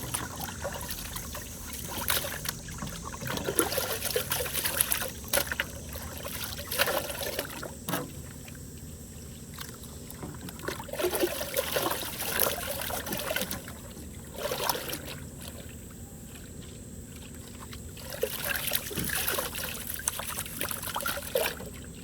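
Water mixed with surfactant swirls and sloshes in a heavy-duty gold prospecting pan, with close trickling and splashing in repeated waves of swirling and quieter pauses.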